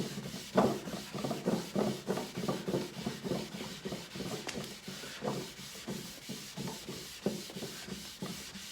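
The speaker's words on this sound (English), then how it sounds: "just rubbing it over a few times like this, I found helps to even out the stain across the piece" A cloth rubs wood stain into an oak console with steady back-and-forth strokes, a regular swishing rhythm of soft friction, close and fairly quiet, with no talking.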